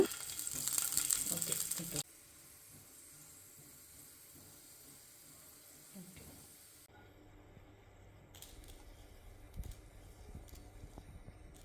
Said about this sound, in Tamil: கொஞ்சமாக ஆயில் விட்டு ஒரு நாலு பல்ல பூண்டு மட்டும் கட் பண்ணி வறுத்துக்கிறேன்